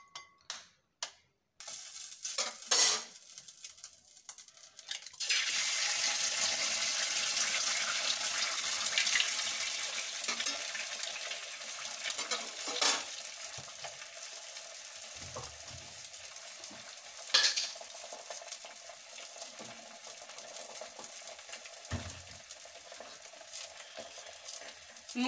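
An egg frying in a pan for a homemade burger, starting with a few clinks and handling sounds, then a loud sudden sizzle that carries on steadily with faint crackles and occasional utensil knocks, close by with no speech.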